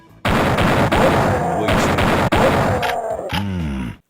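Loud, sustained video game gunfire rattles in a Duke Nukem pinball first-person shooter minigame, broken by brief gaps, and a gruff grunting voice comes near the end.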